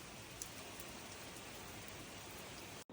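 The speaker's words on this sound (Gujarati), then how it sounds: "બહુ મસ્ત વરસાદ પડે છે" Heavy rain pours steadily as an even, dense hiss throughout, fairly quiet and unbroken, with no voices over it.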